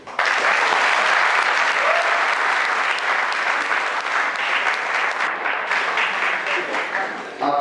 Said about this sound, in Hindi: आपकी ये तालियां छोटी सी पहल थी